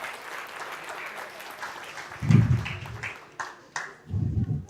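An audience claps in welcome, a soft spread of applause with occasional louder low thumps and bursts of handling noise close by.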